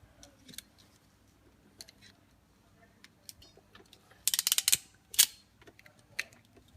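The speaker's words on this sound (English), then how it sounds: "Just get your crimping tool." Crimping tool squeezing a wire connector during a Chrysler 300 accessory install, faint scattered ticks then a cluster of sharp close mechanical clicks and snaps toward the end, no talk.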